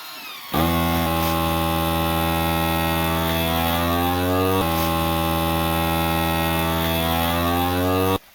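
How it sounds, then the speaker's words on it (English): A FoodSaver vacuum sealer motor drones loudly with a rising pitch for about eight seconds, starting and stopping abruptly, like a small pump drawing air from a bag. "now I'm just going to go ahead and vacuum seal this here with my food saver."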